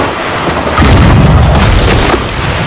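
Cannon fire in a naval fleet battle in Assassin's Creed Rogue, a loud booming volley erupting after a brief quiet lead-in, followed by rolling rumble and further blasts.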